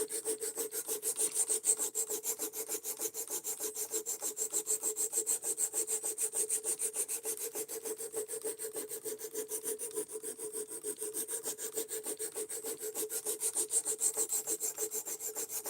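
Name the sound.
sanding a knife with 220 grit abrasive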